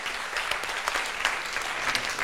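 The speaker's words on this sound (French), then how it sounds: "Est-ce qu'on peut les applaudir, s'il vous plaît?" An audience at a youth debate competition quarter-final in Guinea applauds: a brief, continuous burst of many clapping hands, moderately loud and unbroken by speech.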